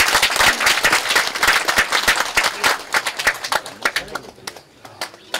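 Vigorous, close applause at a clan association's annual general meeting greets the next hosting family, crisp claps packed densely before thinning out to scattered hand claps near the end.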